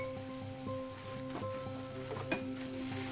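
Spices frying with amchur powder and salt in a pan for chutney give a steady soft sizzle with faint crackles and stirring scrapes, close by and fairly quiet, with no talking.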